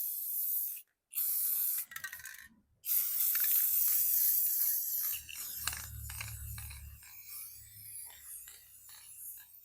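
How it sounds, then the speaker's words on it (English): Several sharp hissing bursts of an aerosol can of clear coat, short sprays separated by brief pauses, close to the microphone, followed by quieter handling noise. "I'm going to spray it in with some clear."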